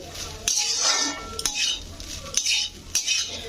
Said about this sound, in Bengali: তো লবণ দিয়ে এবারে ভাতটাকে কিন্তু ভাজতে হবে।